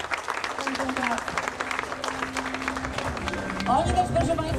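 A crowd at the 2009 Odra Cup rowing prize-giving claps for the winning AZS UMK Toruń crew, with steady applause mixed with a voice over the sound system and a faint tonal whine.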